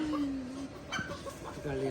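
Chickens being caught and put in a cage, with a rooster nearby, giving short clucks and squawks close by under steady talking from people in a noisy outdoor setting.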